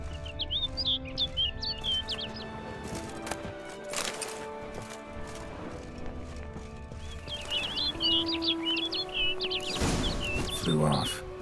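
A bird in The Witcher 3 gives short chirping calls in two bursts over ambient game music and hoof-like clopping, with a voice speaking briefly near the end.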